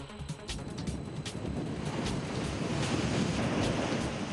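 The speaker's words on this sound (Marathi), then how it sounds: "आणि मुंबईच्या समुद्र किनाऱ्यावर मोठी भरती" Sea waves surging on the Mumbai shore at high tide, a continuous broad wash of surf with wind rumble against the microphone, steady and fairly loud, no voices.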